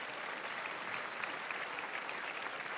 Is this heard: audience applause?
yes